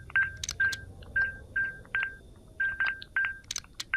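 Telephone keypad tones from the video game Greyhill Incident, a quick run of about a dozen short electronic beeps in uneven bursts as a number is dialed, fairly close and clear with no talking.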